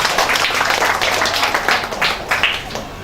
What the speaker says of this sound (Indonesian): Tepuk tangan buat Pak Bapak.